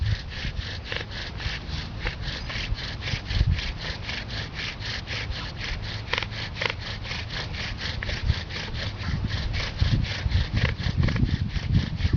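A bow drill with a stretched T-shirt bowstring saws back and forth against wood in a steady rapid rhythm of rasping strokes, close and continuous with no talk.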